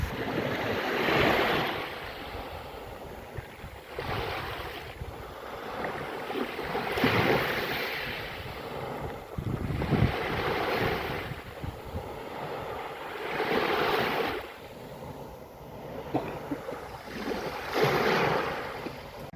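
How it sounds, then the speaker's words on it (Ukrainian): Sea waves rolling onto the Odesa shore in a slow, regular rhythm, each surge swelling and fading, with some wind buffeting the microphone and no talking. "Покажу вам півхвилинки моря."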